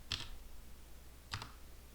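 Two crisp computer mouse clicks about a second apart, close and quiet in an otherwise silent room.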